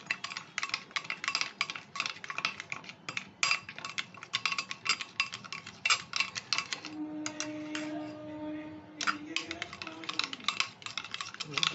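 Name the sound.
whisking yogurt with chili powder in a bowl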